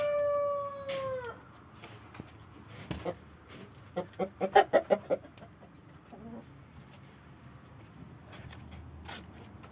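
Chickens cluck and call close by, a rooster-like crow opening before a quick run of short rhythmic clucks in the middle, then scattered quieter fowl sounds over a hushed yard.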